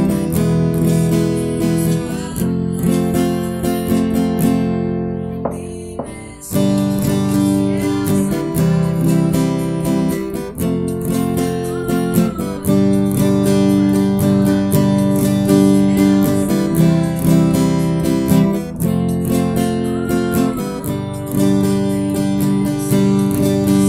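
Acoustic guitar strums full chords of Sol, Do and Fa for the chorus of a song in a steady, repeated rhythmic pattern, loud and close, with brief pauses between chord changes.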